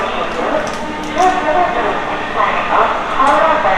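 The 15959 Kamrup Express departs platform 9 at Howrah station, rolling along with a rattling, uneven rumble while voices chatter faintly in the background.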